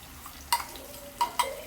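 A spoon stirring ground paste into a simmering kaju matar paneer curry in a pan, with a few soft scraping clinks against the metal over a quiet background.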